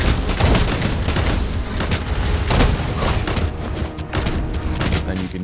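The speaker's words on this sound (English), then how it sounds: "These incendiary rounds really do a lot of damage." Incendiary rounds gunfire in the Shape Of Dreams video game, rapid overlapping shots and booming impacts in a dense continuous barrage, loud throughout and thinning slightly toward the end.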